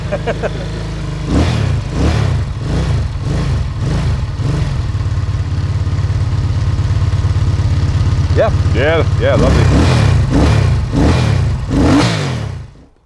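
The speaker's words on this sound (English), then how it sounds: "this engine, even though it does have the feel of some nice torque to it, it really comes alive in the top of the rev range." A Moto Morini 3 1/2 classic motorcycle engine idles close by with a low, throbbing beat and then revs hard several times in repeated rising bursts. A brief voice speaks near the end.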